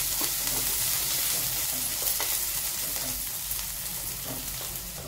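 Chopped onion frying in hot oil in a pan over a medium gas flame while turmeric and asafoetida go in, giving a steady, close, even sizzle with light stirring scrapes throughout.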